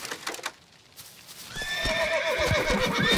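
A horse in The Witcher 3 gives a loud, wavering neigh that builds over the second half, following a few hoof clip-clops and a quieter stretch.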